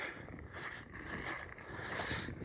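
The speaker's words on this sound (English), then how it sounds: "It's very, very windy up here, so pardon the wind" Steady wind rushes and buffets the microphone in continuous gusts atop East Crater in Washington's Indian Heaven Wilderness, loud and close, with no voices.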